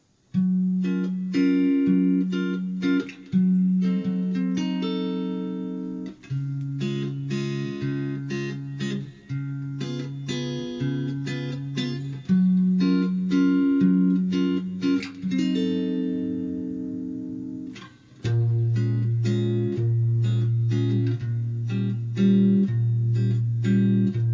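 Acoustic guitar plays the chorus of a song at a steady strummed and picked rhythm, close and clear, with no voice over it and a brief pause near the end before the chords resume lower.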